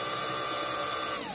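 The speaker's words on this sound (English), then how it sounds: "we're gonna drill a hole into that pot so that it drains better" A power drill bores a drainage hole into a plant pot, a steady whirring drone held for over a second before its pitch slides down as it slows, with no talk over it.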